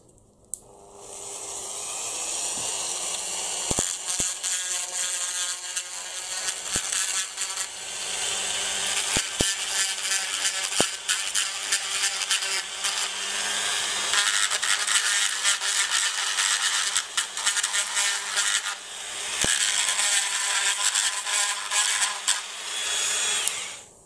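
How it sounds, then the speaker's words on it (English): Power grinder cutting off the top of a metal rivet on a 1/18 scale Hobby Design LB Works Audi R8 model car, a sustained close whine with brief breaks and bursts, continuous for about twenty seconds. "So we're just going to grind off the top."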